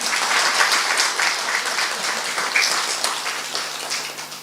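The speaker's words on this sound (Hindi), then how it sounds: "तालियां तो बजाओ जरा।" An audience at a spiritual class applauds, steady dense clapping throughout, close and full, gradually easing toward the end with no talking over it.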